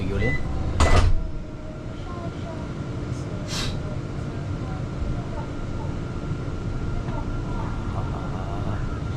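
Door of a driverless AI bus in China sliding shut, a short clunking thud near the start, then a steady interior hum with a faint click later and speech over it.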